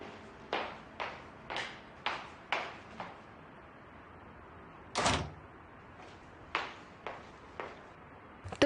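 A door in a tense indoor drama scene: a run of sharp, evenly spaced thuds, then one louder, fuller bang midway as it shuts, with a few softer knocks after. Quiet room, no voices.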